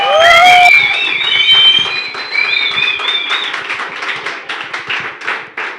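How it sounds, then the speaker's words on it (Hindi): A crowd at a stand-up comedy show breaks into applause, opening with high shrill whistles before dense clapping takes over, loud and near at first and then thinning out toward the end. "जोरदार तालियां हो जाए।"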